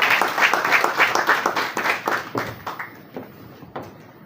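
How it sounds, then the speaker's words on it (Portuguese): An audience at the opening session of Angola's national conference on press freedom and access to information applauds with dense, steady clapping that thins out and fades toward the end. "Mais uma salva de palmas, se faz favor."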